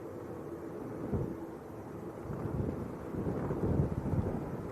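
Gusty wind buffeting a microphone outdoors at Manchester Airport, a steady low rumble that swells in uneven surges and peaks toward the end, with no voices.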